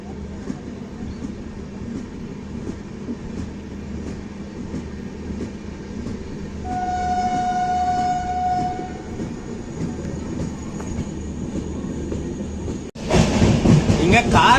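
The Siruvani Express pulls out of Karamadai station with a low rumble and a long horn blast in the middle, then a sudden surge of loud rolling wheel noise close by near the end.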